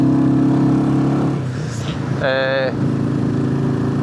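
A Royal Enfield motorcycle engine thrums steadily while the rider slips the clutch in too high a gear, the pitch dropping and straining briefly before settling. A voice talks over it.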